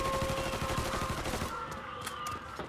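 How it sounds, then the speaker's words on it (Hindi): Gunfire in the video game Mafia 3: a dense burst of rapid automatic shots that thins out into a few separate sharp cracks, with a high tonal hum underneath. "गोलियां तो चला रहा है कुछ।"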